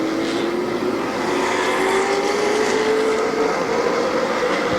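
Stock cars roar around Midvale Speedway at a fall classic race, a loud continuous engine drone with a rising pitch as the pack passes close by.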